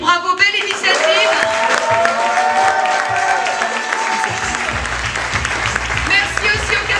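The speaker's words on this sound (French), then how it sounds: "Merci à Julie et Sarah qu'on peut encore applaudir." An audience at a café-theatre comedy show in Brussels claps warmly, with a few cheers, while voices talk over the applause and a tonal sound runs through the middle.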